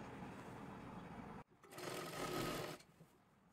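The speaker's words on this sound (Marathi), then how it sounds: "एकदम सावकाशमध्ये एकदम कडेला शिलाई मारून घ्यायची." A sewing machine runs steadily while stitching along the edge of a kurti. It pauses briefly, then hums on louder before easing back, with no talking.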